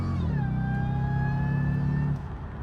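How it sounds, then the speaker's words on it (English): A supercharged Jaguar XKR engine revs hard, its pitch climbing and holding high with a loud, sustained whine, then dropping off near the end, close and alone. "Listen to that supercharger one."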